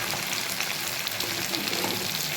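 Mixed vegetables, carrot among them, sizzle and fry steadily in a pan for spring roll filling, a dense continuous crackle with no talk.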